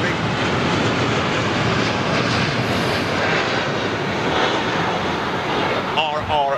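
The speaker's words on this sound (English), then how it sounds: "747 is moving." A Boeing 747 on the move at London Heathrow Airport gives a steady, loud jet engine roar throughout, with a commentator talking over it.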